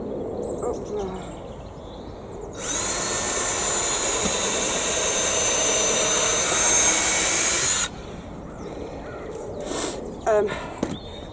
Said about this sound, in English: Only got one power drilly today, so I'll just have to keep swapping out the drill bit with the screwdriver bit.